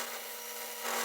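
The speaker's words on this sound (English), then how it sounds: "just sand the front side smooth, and then turn it over and sand the back" Belt sander smoothing a wooden scroll-saw inlay, a steady close abrasive hiss over a faint motor hum, growing slightly louder near the end.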